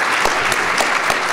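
An audience at a city annual address to the mayor and city manager applauds with dense, continuous, loud clapping throughout.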